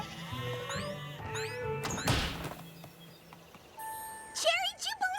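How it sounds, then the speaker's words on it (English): Sheep bleat in a cartoon scene while sitting on train tracks and halting the trains, with several wavering cries overlapping and a sharp crash near the middle. A voice speaks in between. "Sheep decided to sit on the tracks. Curse you, sheep!"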